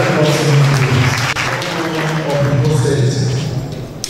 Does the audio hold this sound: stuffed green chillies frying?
no